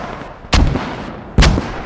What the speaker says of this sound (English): yes, nice grenade there